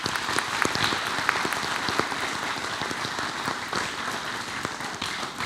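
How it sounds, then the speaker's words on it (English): Applause at a school board of education meeting for music teacher Mr. Tate, a steady mass of clapping hands from a seated room, with individual sharp claps standing out throughout. "Let's give Mr. Tate a round of applause"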